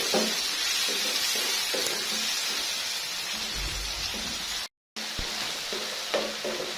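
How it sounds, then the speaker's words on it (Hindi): Finely chopped tomatoes frying in a pan for a minute or two, a dense continuous sizzle with repeated stirring scrapes, close and steady, briefly cut out near the end. "एक से 2 मिनट तक हमने टमाटर को भून लिया है।"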